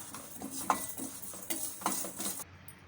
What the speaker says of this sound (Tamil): இப்போ இதை வந்து நம்ம நல்லா வறுத்துக்கலாம்